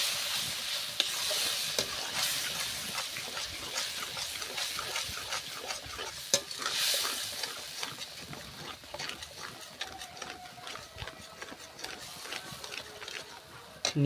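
Tomato gravy stirred in a pan over the heat, giving a steady close, soft scraping and sizzling texture with occasional louder strokes throughout.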